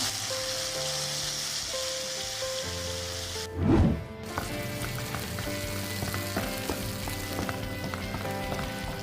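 Seblak spices sautéing in a pan with kencur, a steady close sizzle under faint background music, with one brief louder scrape or stir near the middle.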